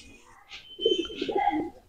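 Young, untrained pigeon cooing: a few soft, low throaty coos in a short burst, close by, with faint higher chirps just before.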